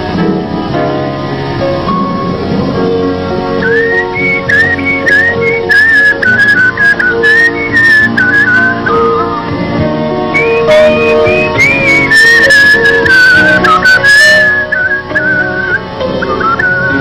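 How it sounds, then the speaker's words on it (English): A person whistles a melodic song, clear and close, with sustained, sliding tones over a continuous instrumental accompaniment. "we get to watch the beautiful whistling again"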